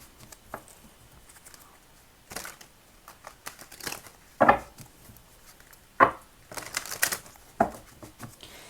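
Soft papery shuffling and tapping of tarot cards, with irregular riffles and light slaps spread across a quiet stretch, close by.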